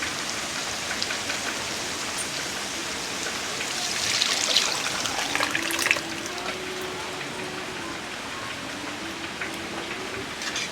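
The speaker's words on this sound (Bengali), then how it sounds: "এর মধ্যে দিয়ে দেব সেদ্ধ করে রাখা ডাল।" Boiled moong dal pours into a cooking pan of softened tomatoes, a soft steady liquid splash and trickle that swells briefly near the middle, close and fairly faint.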